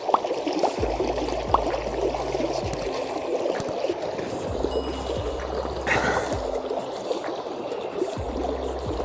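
A river flows beside a mountain road near the last village before the Afghan border in Chitral, Pakistan, giving a steady broadband rush of water throughout with a low rumbling hum underneath.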